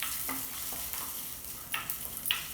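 Dals and cashew nut bits sauteing in a pan give a soft, steady sizzle, with a few scraping stirs of a spoon at a moderate distance.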